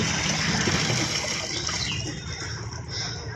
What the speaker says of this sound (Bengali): দুজন সাঁতার কাটছে।